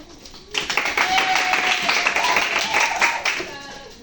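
Students in a classroom break into dense, steady applause that starts abruptly and carries on for about three seconds before trailing off, loud and close, with a few voices mixed in.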